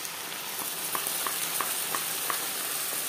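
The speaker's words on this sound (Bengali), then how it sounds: "পেঁয়াজ হালকা করে ভেজে নেওয়ার পর দিয়ে দেবো মশলার পেস্ট" Onions fry in oil with a tomato, ginger and green and red chilli paste, giving a steady close sizzle with light rhythmic stirring taps throughout.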